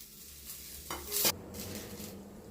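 Shallots and garlic sautéing in a pan for horse gram chutney, a faint, steady sizzle with a few scraping stirs and one brief louder scrape of the spatula, close and without talk.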